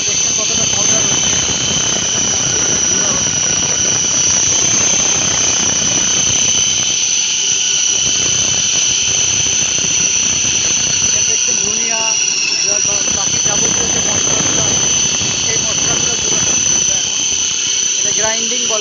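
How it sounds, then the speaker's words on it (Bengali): A mini combined rice mill running as a spice grinder, giving a loud, steady mechanical whine and roar with a high-pitched tonal hum that holds through the whole stretch, and faint voices come through underneath it. "মশলা গুঁড়া করা হচ্ছে।"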